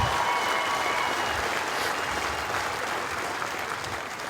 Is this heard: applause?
yes